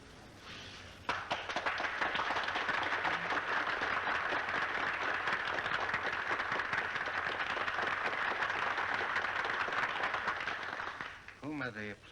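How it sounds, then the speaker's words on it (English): An audience breaks into sustained applause for Dr. Lister from England, a dense, steady wash of clapping lasting about ten seconds before fading as a voice speaks. "Whom are they applauding? The speaker, Dr. Lister from England."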